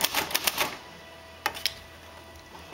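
A Royal Quiet Deluxe manual typewriter types nearby, with a quick cluster of crisp key strikes followed by a pause and two more isolated clacks.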